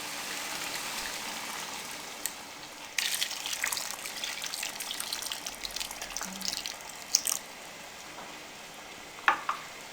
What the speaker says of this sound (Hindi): अब इसमें हम पानी ऐड कर देंगे